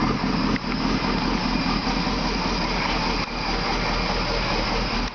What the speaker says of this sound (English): Here's the exhaust from the outside.